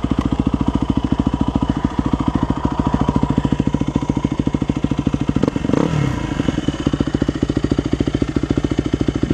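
A 2001 Yamaha WR250F dirt bike engine idling warm, a close, loud, steady rapid thumping beat with a brief throttle blip midway before settling back to an even idle.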